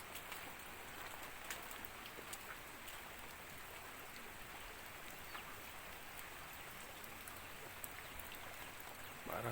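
Steady rain falls on a misty Sundanese village in Garut, a dense, even hiss of drops with occasional louder taps on nearby surfaces.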